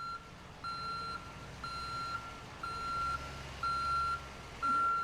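A fire pumping apparatus reverses through a serpentine driving course, its backup alarm giving six steady, evenly spaced beeps about a second apart over a low engine rumble.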